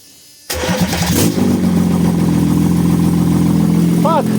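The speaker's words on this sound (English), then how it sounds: "let's start some diesel." An M57 diesel engine at 184 km fires up after a brief crank, catching abruptly into a loud, steady idle that runs on with a deep rhythmic clatter; a voice briefly sounds near the end.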